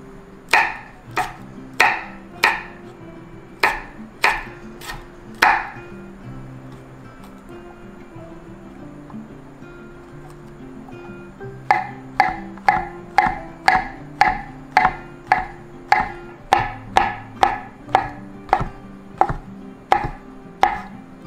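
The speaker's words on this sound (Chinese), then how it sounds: "节瓜、辣椒跟香菇切成片状" Knife slicing zucchini, chili peppers and mushrooms on a board for a vegan Korean pancake, with crisp evenly spaced chops in two runs separated by a quiet pause, close and clear.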